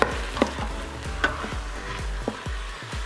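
Meat cooking for chili mac in an Instant Pot, a soft sizzle under repeated spoon scrapes and stirring knocks at a steady rhythm, close and fairly quiet.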